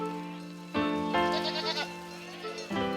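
Goats bleat repeatedly in an alpine summer pasture, loud and close, with several overlapping calls in quick succession and no talk.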